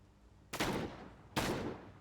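Two loud, close blasts from an M4 Super 90 shotgun in a video game, each a sharp boom with a short decaying tail, spaced under a second apart.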